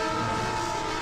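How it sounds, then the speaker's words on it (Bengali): A loud, sustained horn blares from an approaching train, a steady harmonic tone filling the whole second without any speech. "ট্রেন আসছে!"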